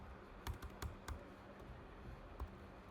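Keys clack on a computer keyboard as C code is typed, a quiet cluster of sharp taps in an irregular rhythm with pauses between bursts.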